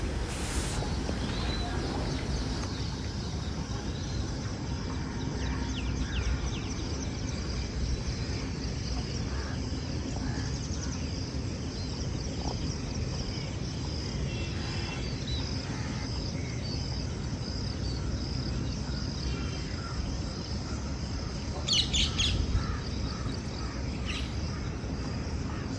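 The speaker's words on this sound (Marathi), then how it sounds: "वेगवेगळ्या पक्ष्यांचा आवाज सुद्धा येथे येत आहेत" Outdoors on a farm, birds including a distant koel, a kite, sparrows and crows call from the trees over a steady bed of insect chirring, with a brief sharper burst of calls near the end.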